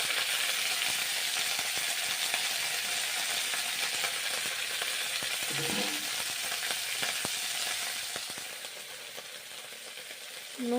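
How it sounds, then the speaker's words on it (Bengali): Neem leaves frying in oil in a pan, a soft continuous sizzle with a few light clinks of a utensil, easing slightly toward the end. "তাই নিম পাতাগুলো ভেজে নিচ্ছি।"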